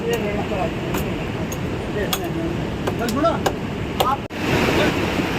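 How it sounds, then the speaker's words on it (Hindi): The Parvati and Malana rivers rush steadily in the Manikaran valley during a disaster, a broad continuous roar of flowing water with a few faint clicks and a brief dropout near the end, heard close and constant. "ये पार्वती नदी है और ये मलाना नदी है"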